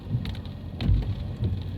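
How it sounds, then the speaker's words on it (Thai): Heavy rain pours steadily outside a car on a dark day. The wash is dense and constant, with a deep rumble swelling near the middle. "ฝนตกหนักมากๆเลยนะคะ"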